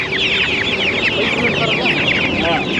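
Aseel country chickens at a poultry market near Bangalore cluck and squawk nonstop, many birds close by calling at once in a loud, dense chorus that fills the whole moment.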